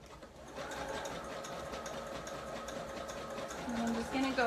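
Sewing machine running a zigzag stitch around the edge of a fabric heart for a Valentine's garland, a steady close mechanical whir that continues throughout with a slight rise near the end.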